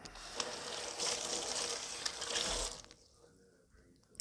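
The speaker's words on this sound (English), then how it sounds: "And we're just going to rinse out the seeds." Chili pepper seeds rinsed under a running kitchen tap, a steady close splashing stream with a few clinks, stopping abruptly near the end into quiet.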